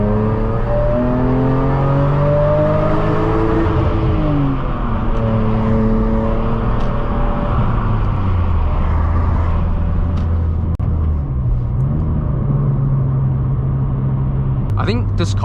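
BMW E46 M3 CS engine heard from inside while driving, a loud continuous drone that rises and falls through revs and gear changes, with someone talking over it.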